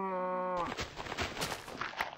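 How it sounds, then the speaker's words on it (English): A Minecraft explosion on Xbox 360 cuts in after a brief held tone, becoming a loud, sustained burst of crackling, rumbling noise with scattered sharp hits that runs to the end. "I heard an explosion."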